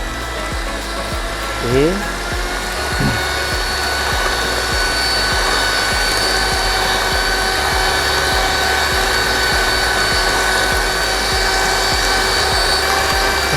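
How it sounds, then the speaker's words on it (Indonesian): An electric hand mixer whirs nonstop at its highest speed, beating black forest cake batter until it turns thick, a loud, continuous motor drone with faint rhythmic ticking, and someone says a single word early on. "baru kita mixer dengan kecepatan maksimal ya, tinggi"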